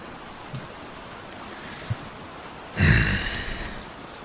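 Steady rain falls as background ambience in a Dungeons & Dragons 5e Curse of Strahd session: a soft, even hiss with a couple of faint drips, then a louder whooshing surge near the end that slowly fades.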